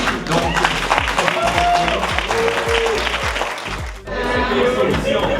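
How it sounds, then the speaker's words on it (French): At a tech fair for Congolese startups, a crowd claps for a group of presenters, loud applause that carries on under low rumbling background sound and voices, with a brief dip before it swells again. "Voilà, on les applaudit."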